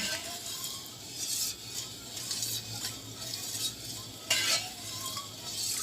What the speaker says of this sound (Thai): คนไปเรื่อยๆ จนกว่าผงวุ้นจะละลายนะคะ